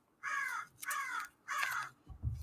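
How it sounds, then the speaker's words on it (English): Crows give three loud, harsh caws in a steady rhythm, each about half a second long, close by and outdoors, followed by a brief low thump. "Your crows are looking for you, Kai."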